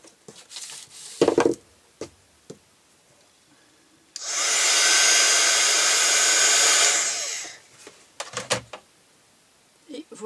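A hair dryer blows on painted black craft pieces, its steady, loud whoosh running for about three seconds and framed by light taps and handling knocks before and after.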